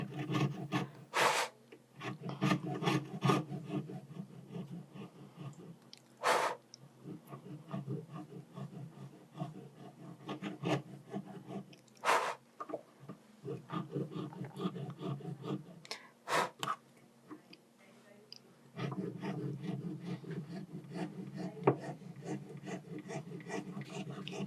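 Wax being cut with a jeweller's piercing saw, quiet rapid rasping strokes in uneven bursts with short pauses and a few sharp clicks.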